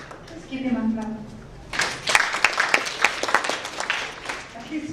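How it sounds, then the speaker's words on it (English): Audience applause breaks out at a cyberspace policy panel, a dense burst of clapping that swells after a spoken lead-in and continues steadily to the end, with talk beneath it. "Let's give him a clap."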